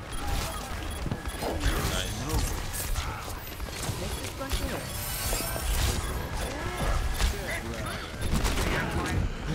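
Chaotic Overwatch combat with rapid gunfire, impacts and shattering effects layered together, mixed with a voice talking throughout.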